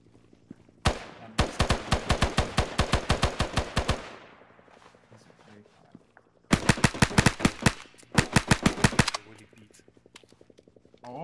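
Rapid automatic gunfire in a military video game, two long loud bursts with a brief gap and scattered single shots between, close and sharp with no talk over them.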